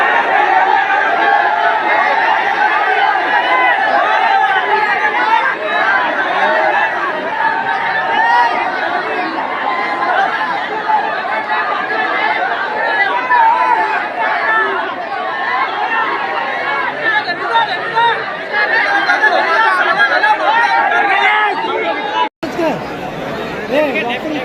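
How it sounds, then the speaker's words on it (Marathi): A large crowd of citizens gathered in front of a school in Badlapur, with loud, continuous chatter and overlapping voices. The babble holds steady throughout and is cut off by a brief click near the end. "आज नागरिकांनी शाळेसमोर मोठ्या प्रमाणात गर्दी केली आहे।"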